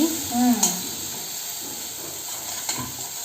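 Green chilies dropped into hot oil for a Maharashtrian fasting-snack chutney, giving a steady close sizzle with brief stirring clinks and a faint voice at the start.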